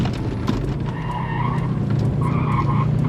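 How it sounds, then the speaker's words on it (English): A Subaru Levorg fitted with a new differential skids, its tires squealing in two sustained, wavering bursts over a loud, steady engine roar, close by with no talk. "got my diff in what I think will work for making it do some skids."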